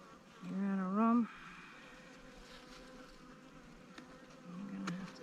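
Honeybees swarming around wooden hive frames during hive inspection, a close insect buzz rising at the start then fading to a steady faint hum, swelling again near the end.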